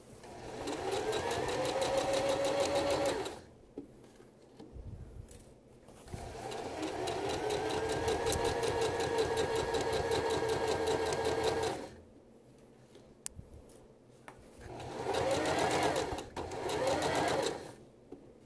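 A sewing machine backstitches through fabric at the top of a garment facing, running in three long bursts of steady, loud mechanical chatter separated by short pauses.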